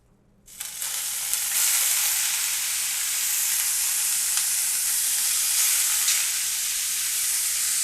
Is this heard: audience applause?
no